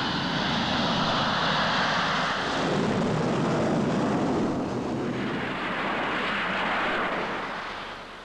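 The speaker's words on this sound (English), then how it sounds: "It takes the combined force of the catapult and the jet engine to give it enough acceleration." A jet fighter launches with the combined force of a catapult and its jet engine, a loud sustained roar with a rising rush that swells and then slowly fades, with no voices.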